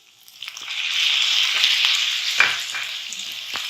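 Chicken sizzles in hot oil in a pan as tomato paste goes in for chicken bharta, a steady close frying hiss broken by a few sharp spatters and stirring scrapes, with no talking.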